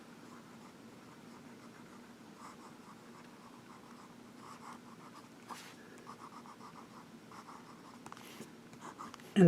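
A Visconti Chiantishire limited-edition fountain pen with a 23K palladium nib scratches softly across paper in close, faint strokes, with light rhythmic scribbling and small taps throughout.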